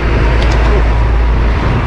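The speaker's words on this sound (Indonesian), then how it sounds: "Oke, kita sudah menyalip truk" Loud, steady broadband road rumble from a truck being overtaken by a cyclist on an estate road, a continuous close wash of engine and traffic noise with no speech.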